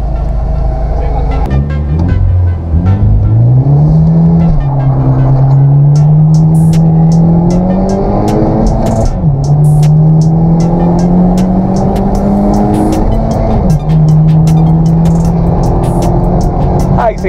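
A Hyundai Genesis 2.0T with a filter drag racing a Mercedes-Benz A-Class sedan with a dual-clutch gearbox, 2023 or newer: a loud engine revs up through several gear shifts, each rising pitch falling at the change, with talk over the top.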